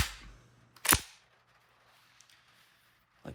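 Straight-pull bolt of an Austrian Steyr M95/34 carbine chambered in 8x56R being worked, giving one sharp, loud metallic clack near the start and a softer click at the end, close and otherwise quiet.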